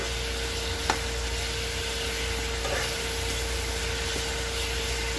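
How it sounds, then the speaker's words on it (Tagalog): Chicken feet adobo sizzling in a pan as it is stirred, a steady loud frying hiss throughout with a faint scrape or two, no talking. "haluin ulit natin siya"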